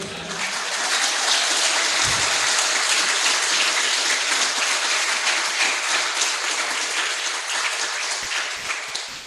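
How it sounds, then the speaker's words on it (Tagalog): Sustained applause from a church congregation fills a worship service, dense and steady from start to finish with a brief low thump near the two-second mark and no talk over it. "Yung palakpak na yan,"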